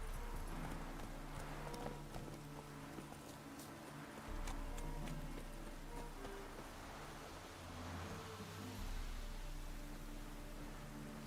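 Roach the horse gallops in The Witcher 3: Heart of Stone, a steady run of hoofbeats layered over a constant low rumble of game ambience and music, with no talk during the stretch.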